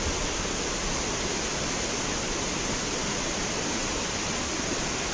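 A waterfall at Cuyahoga Valley National Park pours in a steady, dense rush of broadband water noise, constant and fairly loud throughout with no voices.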